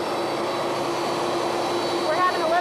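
The president's plane lands in Louisiana after Hurricane Ida, its jet engine producing a loud, steady roar and whine that fills the whole stretch, close by and continuous.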